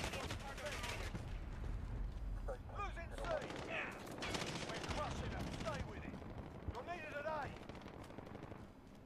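Gunfire in a multiplayer shooter, fairly faint bursts of rapid automatic shots coming in several waves, with other game sounds mixed in and voices talking over parts of it.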